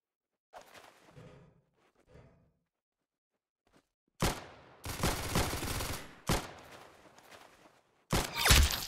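Gunfire bursts in the Roblox shooter Arsenal: a few faint shots early, then loud, dense rapid-fire volleys in several bursts toward the end, with quiet gaps between.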